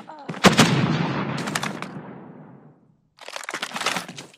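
Loud gunfire in a team shooter video game during a competitive scrim: sharp cracking shots burst at the start, trail off into a brief silence, then a second rapid volley of shots follows.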